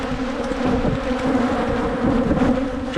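Honey bees swarm and buzz around an opened hive in dry West Texas, a dense, steady droning hum of many wings close to the microphone, with occasional individual bees passing nearer and louder.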